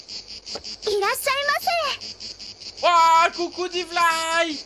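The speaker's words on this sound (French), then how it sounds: "on se fait attaquer par des grillons" Crickets chirp steadily throughout in a close, continuous high trill, heard under a young voice talking in French.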